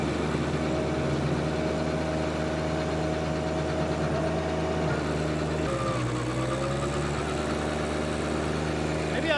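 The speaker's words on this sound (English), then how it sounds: "Maybe I'll just use my stump grinder as the tiller today." A stump grinder engine, used with a John Deere 1025R tractor for tilling and stump grinding, runs loud, steady and continuous nearby, with a rumbling drone that shifts in pitch briefly partway through.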